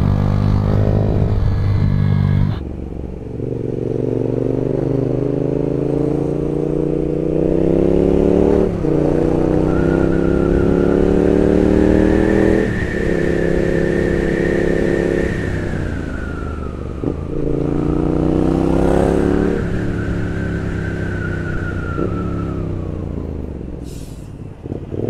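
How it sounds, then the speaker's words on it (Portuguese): Loud car and motorcycle exhaust roars and revs steadily in traffic, with rising and falling pitch as vehicles accelerate nearby, no talking. "o barulho do escape"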